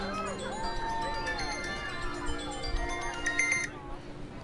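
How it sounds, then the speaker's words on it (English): A mobile phone rings with a melodic electronic ringtone, repeating tonal phrases for a few seconds at moderate volume before cutting off, over faint game background sound. "My phone was going off."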